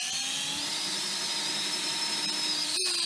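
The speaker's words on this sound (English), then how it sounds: "And you just keep doing that over and over and over again with the drill bit." A power drill with a small bit bores a hole in wood for a homemade mace, giving a steady high-pitched whine that holds constant and then cuts off abruptly near the end.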